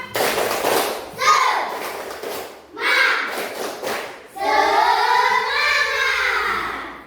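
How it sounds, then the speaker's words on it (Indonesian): A class of children does a rhythmic spirit clap, in bursts of clapping and thumping mixed with loud shouted group chanting, close and energetic, with pauses between the rounds. "Tepuk semangat lagi boleh? Tepuk semangat."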